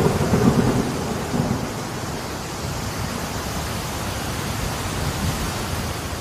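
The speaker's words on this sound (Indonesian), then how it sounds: "Suara langit yang bergemuruh dan angin yang menerjang semakin membuat malam itu menjadi malam yang mendebarkan" A heavy thunderstorm at night pours dense, hissing rain over a tea plantation house, with a low rumble of thunder at the start fading into steady downpour and gusting wind.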